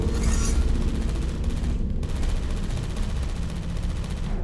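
Automated turrets firing in the video game Portal 2 produce a steady, loud rattle of rapid shots that runs through the whole stretch, with one brief break partway in. No one speaks.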